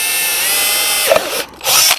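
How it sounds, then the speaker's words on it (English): A power drill bores a hole into a junction box for a G scale track layout, whining steadily for about a second before biting and bursting in two short, loud grinding spurts. "So I'm going to drill 1 hole"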